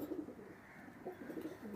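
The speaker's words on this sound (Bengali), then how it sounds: "খুব সুন্দর কবুতর।" A racing pigeon from a result-proven Teddy bloodline gives a few soft, low coos in quiet, muffled bursts, faint and fairly close, with no talk.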